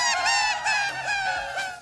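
A Beatles tape loop of Paul McCartney's voice sped up to imitate a seagull: repeated bright, squawking cries, loud and close, with no other sound.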